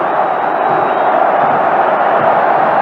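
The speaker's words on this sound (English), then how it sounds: "the crowd here are all calling the goalkeeper names" Football stadium crowd at a Boca Juniors versus River Plate Argentine league match, jeering and calling the goalkeeper names: a loud, steady wall of massed voices and chanting filling the whole stretch.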